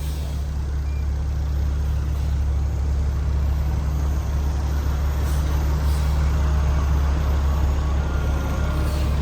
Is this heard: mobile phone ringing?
no